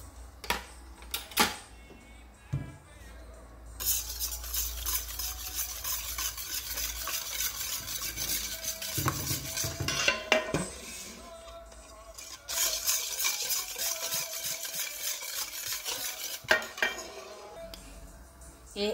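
Spoon stirring sugar into dèguè, a millet milk dessert, in a pot: continuous scraping and clinking against the sides with occasional sharper knocks, close and steady.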